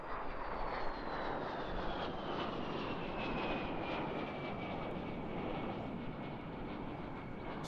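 A Vampire jet flies at the Eastbourne International Airshow, a distant, faint jet whine that descends slowly in pitch over a continuous rushing roar.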